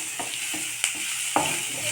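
Radish being stir-fried in a pan for a Tamil-style poriyal, with a steady sizzle and several sharp clatters as a spatula stirs and scrapes the pan, close by and alone.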